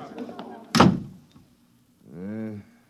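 A door in an old science-fiction radio drama shuts with a single sharp thud and rattle near the start, followed by someone speaking.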